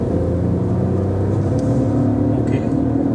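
A Volkswagen Taigun 2021 with a 1 liter TSI engine accelerates, a loud steady engine drone and road rumble heard from inside the cabin, with a voice briefly over it.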